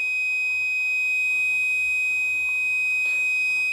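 A steady, shrill buzzer alarm from a password-protected Raspberry Pi Pico circuit breaker, set off by a wrong code, holds one continuous tone throughout at a close, even level.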